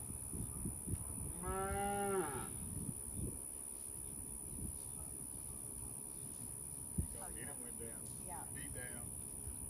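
Large bulls on a ranch in Rosharon, Texas, give a loud drawn-out moo about two seconds long, followed later by softer, brief lowing calls over steady background noise and scattered thumps.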